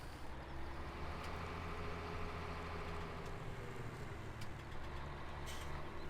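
A truck in Farming Simulator 17 pulling a 10x8 kipper transport trailer runs with a steady, droning engine hum and low rumble, constant and fairly quiet throughout with no talk.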